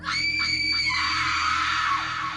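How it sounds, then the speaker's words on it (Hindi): A single sustained scream of someone in pain, loud and close, holding a high wailing pitch for over two seconds as a horror story sound effect. "तभी उसके पीछे से किसी के दर्द से चिल्लाने की आवाज आने लगी"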